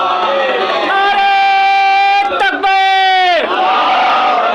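A crowd at a Shia religious gathering roars a religious slogan back in unison, loud, sustained and chant-like, with a short break before a second surge of massed voices.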